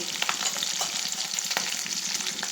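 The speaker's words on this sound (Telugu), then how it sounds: "కొంచెం కరివేపాకు మంచిగా వేయించుకోవాలి" Curry leaves, green chillies and dried red chillies crackle and sizzle in hot oil for sesame rice, a dense steady frying hiss with small pops and stirring scrapes, close and without any talk.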